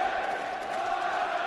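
A darts crowd at a 2010 Premier League match roars and cheers in a steady, loud wash of voices, with a commentator speaking over it.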